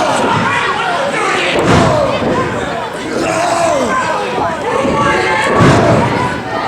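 Wrestlers crash onto the ring from a superplex and a powerbomb at the same moment during a three-way heavyweight title match, heavy thuds rising through loud, steady crowd noise as a commentator talks.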